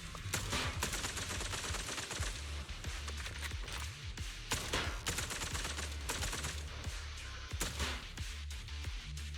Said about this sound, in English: Another single shot. Rapid shot. Rapid fire.